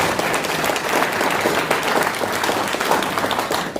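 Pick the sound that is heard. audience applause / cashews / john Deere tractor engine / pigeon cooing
audience applause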